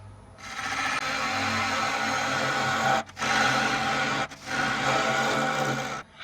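A wood lathe turns a hollow closed form in reverse as a tool cuts into the wood and hits a knot, giving a steady close rasping hiss with two brief dropouts where the cut pauses.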